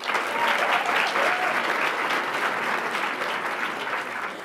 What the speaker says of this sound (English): Applauding in her absence, Dana M. Knowles.